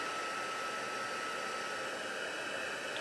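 Craft heat tool for heat embossing running on its second heat setting, a steady close-up whoosh of blown air with an even, unbroken roar from start to finish and no voices.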